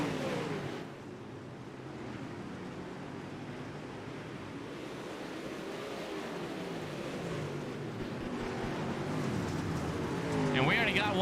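Race cars in an iRacing heat race accelerate as one continuous engine roar, building steadily toward the end, with a commentator talking over it.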